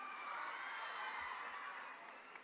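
Students clapping loudly together to welcome Telangana Chief Minister Revanth Reddy at a school interaction with tenth-class pupils, a dense, steady wash of applause from a crowd that fades slightly at the end.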